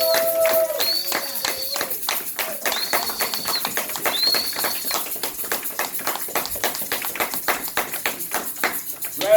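A church congregation claps in a quick, steady rhythm during a worship service, with high gliding whistles or cries and voices mixed through the clapping.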